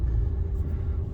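A 2022 Ram 3500 Mega Cab pickup runs with a quiet, steady low rumble from inside the cab, its engine sound smooth and even.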